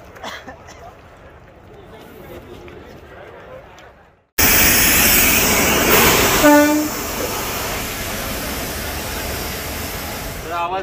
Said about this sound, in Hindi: ऐसे कपल किया जाता है ट्रेन को, जैसा कि आप देख सकते हैं।